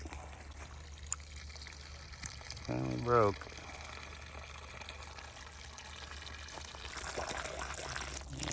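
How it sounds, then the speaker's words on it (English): Water pours steadily from a 2-inch pipe into a backyard pond like a small waterfall, a constant close rushing trickle, with a brief voice speaking over it. "Got my own little waterfall river."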